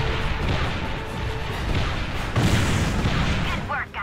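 Cannons fire in Ratchet & Clank Future: Tools of Destruction, a few heavy booms standing out from dense game noise and bursts, fairly loud and close.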